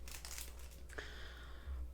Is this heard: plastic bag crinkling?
yes